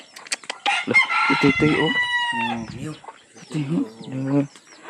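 A chicken crows loudly and close by, followed by several throaty clucks in short bursts, with a brief human exclamation at the start.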